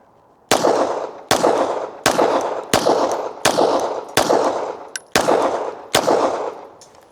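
A Glock pistol fires its last magazine, eight sharp, loud shots at a steady pace roughly one per second, each with a short ringing decay, and no talk between them.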